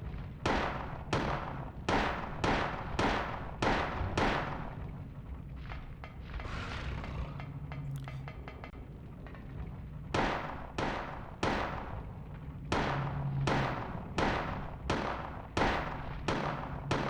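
Pistol shots in the PS1 game Silent Hill, sharp loud cracks fired in quick bursts with a pause of rumbling ambience between volleys, then another rapid string of shots.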